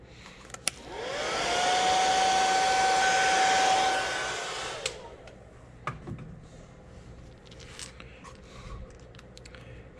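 Hair dryer drying airbrushed paint on a fishing lure, a loud steady whirring blow spinning up, running about three seconds and cutting off, followed by small clicks and handling sounds.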